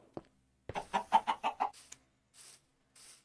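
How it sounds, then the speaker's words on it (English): Minecraft chickens on a chicken farm cluck in a quick run of about seven clipped calls, with two fainter clucks trailing off afterward; moderately close and alone. "I also made a chicken farm"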